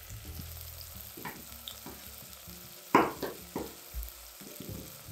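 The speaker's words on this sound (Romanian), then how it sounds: "O să o punem la călit împreună cu cartofi și cu prazul." Green onion, potatoes and leek fry gently in olive oil in a pan, giving a soft, steady sizzle. Several clattering stirs and scrapes punctuate it, with no talking.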